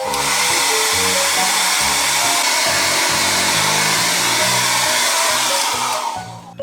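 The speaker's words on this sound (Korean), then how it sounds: "드라이기로 말려주시면 됩니다" A hair dryer drying lemon-juice writing on thin paper blows loudly and steadily up close, its whirring pitch wavering slightly, before switching off near the end.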